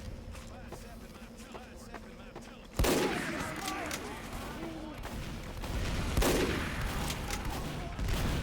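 Gunfire in the game Team Fortress 2, two sudden loud bursts of shots and explosions over continuous game noise, with a voice talking beneath.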